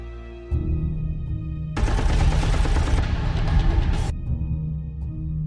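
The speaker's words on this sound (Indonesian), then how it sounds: "mereka langsung adu baku tembak di sana." Rapid automatic gunfire in a film bursts loudly for a couple of seconds over a low rumbling backdrop, then stops abruptly.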